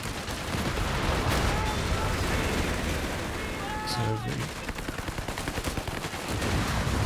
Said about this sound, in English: Oh, there goes the machine gun.